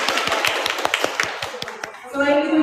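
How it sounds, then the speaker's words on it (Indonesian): An audience at a live parenting talk claps in a run of sharp, separate handclaps that thin out and stop, and a voice rises briefly at the end. "Beri tepuk tangan bagi beliau."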